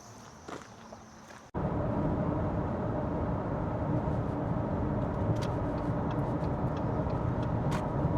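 A car interior after the door closes: a steady, loud engine and road rumble as the vehicle drives along, with faint ticks and rattles and no talk.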